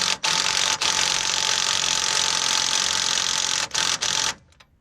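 An impact wrench drives down a tie rod nut on an LB7 Duramax, a loud continuous close whirring rattle broken by a few brief pauses before it cuts off.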